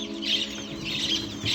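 Backyard hens and a rooster cluck as their cage is opened, with repeated close clucks and bird calls over a steady low hum.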